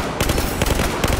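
Rapid automatic gunfire from the AWS gun in the Naval Strike video game, a dense, loud burst of overlapping shots with a rattling rhythm, heard alone.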